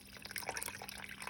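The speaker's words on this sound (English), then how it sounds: "We're going to get a little more. Okay. More water to it." Water is poured into an Instant Pot for bone broth, a short run of splashy trickles and drips landing inside the pot, quiet and close, over a faint steady hum.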